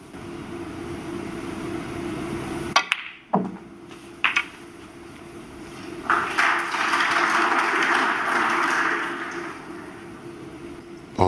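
Applause rises midway through the hall at a 2025 Championship League snooker match between Ronnie O'Sullivan and Mark Selby. It is a moderate, steady patter over a low background hum, preceded by a few isolated knocks.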